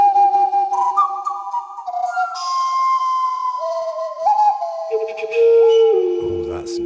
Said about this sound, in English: Skull whistle.